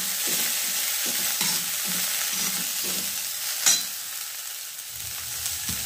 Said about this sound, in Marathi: छानपैकी परतून घेतलेलं आहे तेलात मिरची आणि शेंगदाण्याचं वाटण